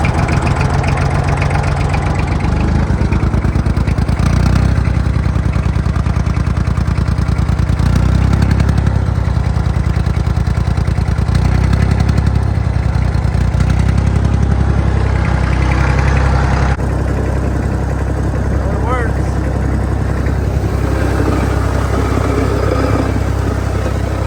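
A Fordson Super Dexta tractor engine runs loud and close while warming up after a hard start, a rough, uneven diesel idle with heavy low-end thumping and slight knocking that holds steadily throughout.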